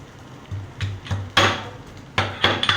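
Ginger and garlic being crushed with green chilli and cumin for a vada pav filling, heard as a run of dull thuds followed by sharper pounding strikes, close and moderately loud, irregular in rhythm.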